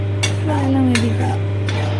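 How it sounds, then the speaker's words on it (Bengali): Spice masala is stirred in a pan with a few quick scrapes and taps, over a low, steady hum and a faint sizzle. "মশলাটাকে এবার বেশ ভালো করে নাড়াচ্ছি।"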